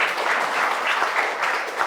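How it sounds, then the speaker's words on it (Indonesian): Wedding guests at a church ceremony clap together in a short, steady burst of applause, dense and even with no talking. "Jadi mari kita beri tepuk tangan."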